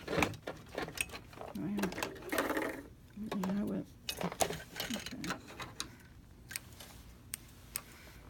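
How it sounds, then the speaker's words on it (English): Sewing machine back stitching to attach the inside of a pants waistband, heard as short stop-start bursts of mechanical whirring and ticking clicks, fairly close. "And I'll just do a little back stitch."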